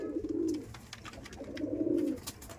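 Madrasi pigeons coo in two low, throaty rolling phrases, close by, with faint rustling and background noise between them.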